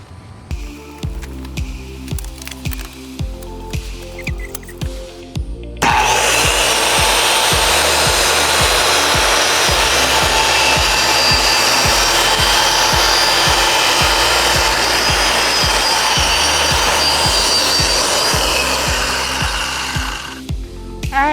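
A saw makes the first cut along a clamped straight edge while fitting recessed windows and shelves in a Ford Transit van. Rhythmic rubbing strokes come first, then a loud, continuous whining cut that runs steadily before stopping.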